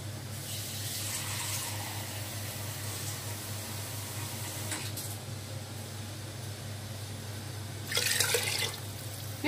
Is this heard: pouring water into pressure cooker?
yes